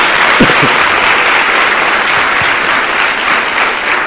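Loud congregation applause in a church, a thick continuous roar of clapping hands with a few sharper individual claps near the start, sustained at full strength.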